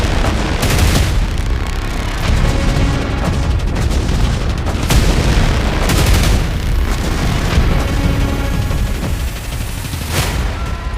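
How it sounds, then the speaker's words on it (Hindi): Heavy booms and blasts of explosions over Tehran, loud repeated impacts with gunfire-like crackle rolling through dense continuous noise, several sharp bursts standing out. "دست کم صدای 2 انفجار در تهران شنیده شده است"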